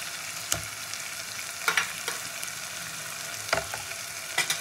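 Onions and tomatoes fry with ginger paste in a pan, giving a steady close sizzle broken by a few sharp scrapes and clatters of a stirring utensil, with no speech.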